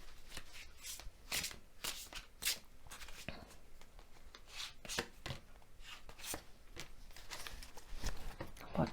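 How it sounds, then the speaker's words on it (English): Tarot cards are shuffled and drawn by hand, a steady run of close, soft riffling and flicking sounds with papery slaps, quiet and uninterrupted. "Let's draw some tarot cards to see what we are shown for reading number 1."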